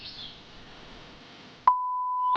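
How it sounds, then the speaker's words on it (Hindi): A phone call rings out unanswered: soft low background noise, then a sudden loud steady electronic tone cuts in and holds, followed by another brief burst at the end. "फिर फोन क्यों नहीं उठा रहे हैं?"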